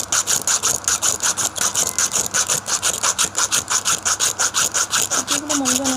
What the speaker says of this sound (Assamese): ৰেতিটো দিয়ে এনেকৈ কাটিছোঁ